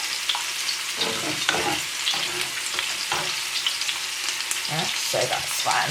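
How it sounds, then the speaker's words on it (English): Tomato sauce for meatballs simmers in a pan with a constant crackling sizzle, punctuated by stirring scrapes and a short spoken remark. "The sauce has been on, just simmering away"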